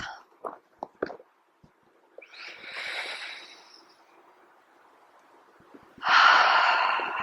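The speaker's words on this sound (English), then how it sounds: "Exhaling out of the mouth" Breathwork exhales through the mouth, several short sharp puffs followed by two longer, loud rushing breaths, close and unaccompanied by talk.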